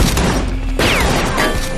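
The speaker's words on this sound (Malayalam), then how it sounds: "ഹെലികോപ്റ്റർ ഒക്കെ ആയി വന്ന് അവിടെ വൻ വെടിവെപ്പ് നടത്തുന്നത്" Heavy gunfire in a film scene with a helicopter, loud dense bursts of shots with a sharp break partway through and a mechanical whir underneath.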